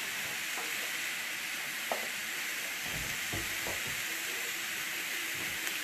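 Food browns in a pan with just a few drops of oil, a soft, steady sizzle and hiss running quietly throughout, with a couple of faint clinks and stirring sounds.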